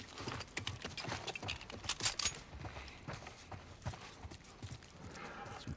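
Horse hooves clip-clopping in the video game The Last of Us, a quick uneven run of hoofbeats mixed with other game sounds, fairly quiet throughout.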